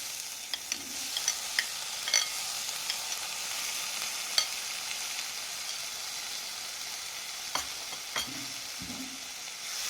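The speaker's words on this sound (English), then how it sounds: "What I am doing here is I am adding some blanched tomatoes here." Blanched tomatoes are added to garlic sizzling in a pan for pasta sauce. A soft, steady hiss and sizzle runs throughout with scattered small pops and clicks. It is faint and heard without any voices.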